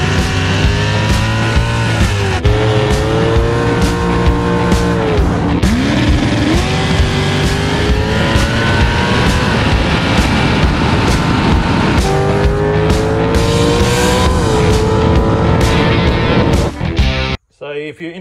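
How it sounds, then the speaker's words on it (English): A car fitted with an LS V8 and a Brian Tooley Racing shaft rocker conversion revs hard and repeatedly, loud and close, with the engine note rising and falling through several pulls before cutting off abruptly. "So can't wait to get this out and give it a hit and give it some revs."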